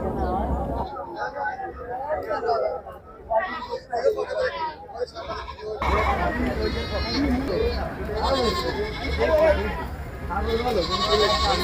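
Goats and sheep bleat amid a busy outdoor livestock market crowd in Bangladesh, their calls mixed under close, continuous talking and background chatter.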